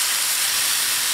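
Marinated tandoori chicken tikka sizzling on a hot pan, a steady loud hiss and crackle that fills the whole short moment without any talk.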